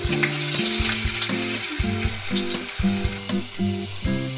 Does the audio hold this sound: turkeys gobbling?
no